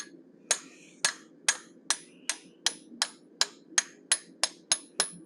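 A hammer strikes a chisel to cut the mouth of a forged animal head, a dozen sharp, ringing metallic blows at a steady unhurried pace, close and loud, with a brief hum between them.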